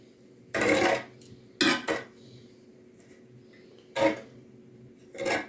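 Spoon clinking and scraping in a bowl or pot while nitrite curing salt is stirred into a cooled duck marinade, in four short separate bursts with quiet gaps between them.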